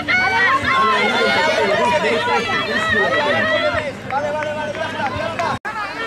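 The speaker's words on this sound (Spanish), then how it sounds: "En estos momentos están corriendo los chicos de la categoría cadet femenil." Girls in the cadet category run a provincial cross-country championship race at L'Alcúdia while spectators chatter and shout nearby, a busy crowd babble with voices throughout and a brief dropout near the end.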